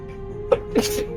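A single short sneeze from a person at a tabletop role-playing game session, a quick burst followed by a breathy release, close and fairly soft over a quiet room hum.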